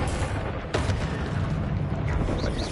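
An Incendio fire spell cast in Hogwarts Legacy bursts out as a dense, steady roar of flame with a brief sharp crack near the start, loud and continuous throughout.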